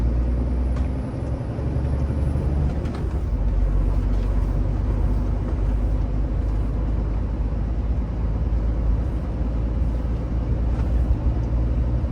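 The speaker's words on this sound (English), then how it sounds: "look at that, the big truck coming, the dumper" A big dumper truck rolls past on a road, heard from inside an HGV cab as a loud, steady engine rumble and road roar, with a brief air-brake-like hiss near the start.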